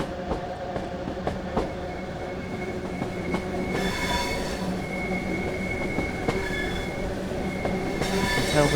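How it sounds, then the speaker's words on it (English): Steady metallic flange squeal from a slow-moving train in Train Sim World 5, high whining tones rising and falling over continuous rolling rail noise and a few clicks, with no voices. "we're going slower than this unit would normally run, because the flange squeal is pretty"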